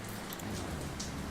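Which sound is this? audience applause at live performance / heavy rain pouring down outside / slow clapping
heavy rain pouring down outside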